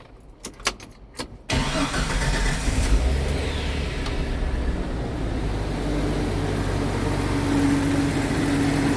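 A Jeep Comanche pickup cranks with a few quick starter clicks, then the engine catches and settles into a steady, rumbling idle heard up close after fuel tank and filler hose replacement.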